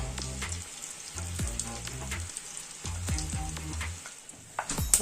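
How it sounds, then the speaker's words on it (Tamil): Vadagam (sun-dried fritters) fry in hot oil up close, a continuous crackling sizzle with scattered sharp pops and a brief scrape near the end. "வடகம் பொரிஞ்சிடுச்சு"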